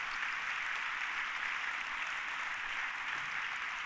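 A church congregation applauds in a steady, even wash of clapping, moderately distant and unbroken for the whole stretch, with no voices standing out.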